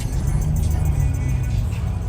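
Corvettes roll in toward a car show beside a freeway, giving a steady low engine and traffic rumble that continues throughout without a clear pass-by.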